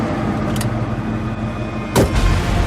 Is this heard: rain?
no